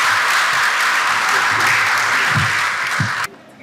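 An audience applauds at a university health sciences faculty's closing ceremony in Port-au-Prince, a full, sustained roomful of clapping that cuts off abruptly near the end, leaving quiet room tone.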